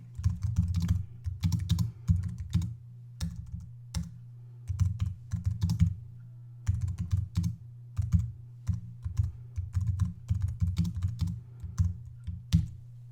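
Someone types on a computer keyboard in close, quick bursts of keystrokes separated by short pauses, continuing steadily for the whole stretch with no talking.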